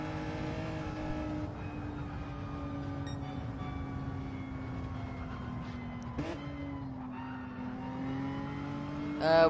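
A race car in Gran Turismo drones steadily while warming its tires, the engine pitch gliding slowly downward, briefly jumping, then settling again, with a faint whoosh at the end and no talk.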